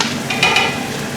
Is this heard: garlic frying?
yes